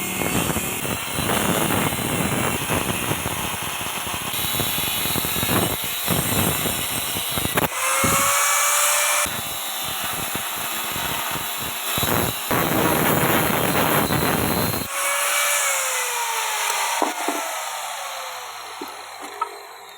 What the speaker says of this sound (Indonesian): langsung aja kita potong menggunakan batu gerenda tipis